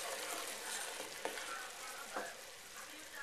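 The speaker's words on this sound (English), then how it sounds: "the caramel is very hot and it's gonna kind of bubble like that" Very hot caramel for fleur de sel caramels bubbles as it is stirred, a faint, steady fizzing sizzle with a couple of soft spoon scrapes and taps against the pot.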